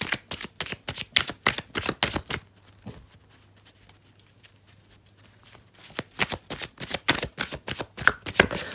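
Rider-Waite tarot cards being shuffled by hand up close: quick, rhythmic papery riffles in a steady run, a quieter pause of a few seconds, then another brisk burst of shuffling.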